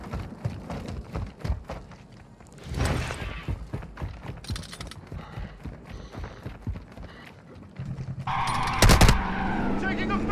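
Gunfire in a shooter video game, scattered sharp shots and short bursts at varying distances amid clattering game sounds, with a voice speaking intermittently.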